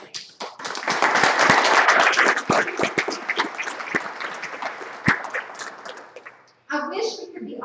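Graduates at a spring 2021 graduate school commencement ceremony receive a sustained burst of applause and clapping, loud and dense for several seconds before thinning out, then giving way to a voice near the end.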